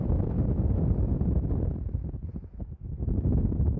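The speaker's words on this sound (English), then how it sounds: "Bit windy" Strong gusting wind buffets the microphone on Skiddaw in the Lake District, a dense low roar that dips briefly then surges back, with no other sounds.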